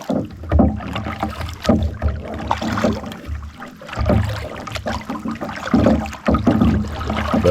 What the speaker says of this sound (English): Just paddling along